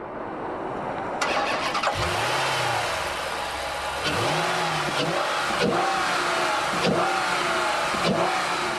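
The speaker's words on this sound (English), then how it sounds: "Tromp the loud pedal and the SRT takes off in a serious hurry." A 2009 Dodge Challenger SRT8 with a 6.1-litre Hemi V8 revs and pulls away hard, the loud engine note rising through several gear changes, close and steady without speech.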